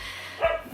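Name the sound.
dog barking in the background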